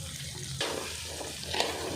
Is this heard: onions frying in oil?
yes